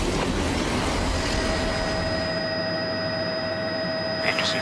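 Alaska gold rush flag stop train rolling on rails near Glacier Station, a steady close rumble with faint rail whine and a brief squeal near the end.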